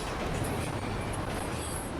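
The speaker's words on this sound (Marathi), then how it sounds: "रेल्वे पण चाललेलीच आहे." A running train heard as a steady, dense rumble and rolling noise, even and continuous, fairly quiet and distant, with no talk.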